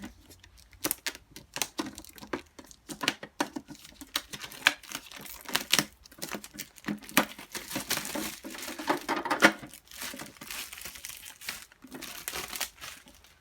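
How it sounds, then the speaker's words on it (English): Plastic wrapping being peeled and crinkled off a makeup organizer, with dense, close crackling and rustling bursts continuing steadily throughout, and no talking. "And then I gotta unwrap this one."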